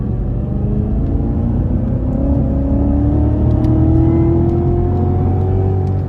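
A supercharged 640 hp Cadillac CTS-V accelerating at full throttle, the engine note climbing steadily in a loud, continuous roar heard from inside the car with no talking.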